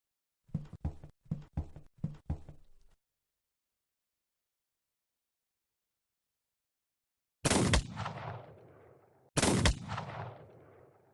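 Gunfire in the video game Mordheim: Warband Skirmish: a quick run of five sharp shots, then a pause, then two heavy booming blasts with echoing tails.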